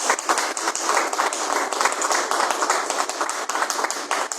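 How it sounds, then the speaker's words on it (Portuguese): A church congregation claps for Jesus after a prayer, a loud, close burst of rhythmic hand clapping that keeps a steady beat throughout with no talking over it. "palmas para Jesus"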